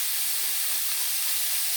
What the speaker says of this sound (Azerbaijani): Soğanı əlavə elədik tavaya.